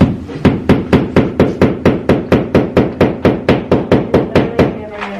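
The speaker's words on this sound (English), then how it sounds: "You are hammering it in" A hammer strikes into a thick wall in a living room, about twenty loud, evenly spaced blows in a steady rhythm, heard close up with no talk over them.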